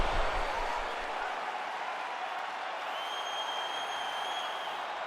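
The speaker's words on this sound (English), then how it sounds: "So the crowd voicing its appreciation after that round." A UFC arena crowd applauds and murmurs after a round, a broad continuous wash of clapping and crowd noise that starts slightly louder and then holds steady.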